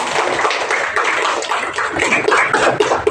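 Hands clapping together in a classroom, a steady run of sharp overlapping claps lasting a few seconds, fairly close and loud, with no talk over it.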